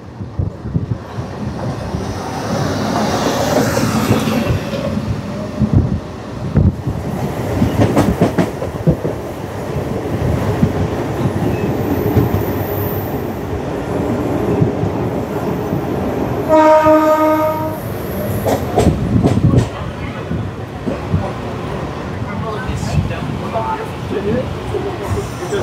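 A Vasai–Diva MEMU local train running along its line, with steady rumbling wheel and carriage noise throughout, a loud horn blast near the middle and people talking aboard.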